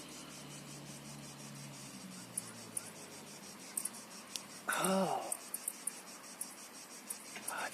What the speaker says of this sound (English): it's the crickets. They're coming alive.